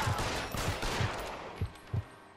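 Tommy gun fire in the video game L.A. Noire, heard as a handful of muffled, spaced shots or short bursts at moderate volume. The last two shots are more separated.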